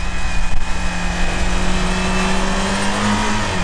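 A Niva pushes through mud and wet snow, its mid-pitched engine droning steadily at high revs, loud and close, the pitch holding with slight wavering under load, with no talk.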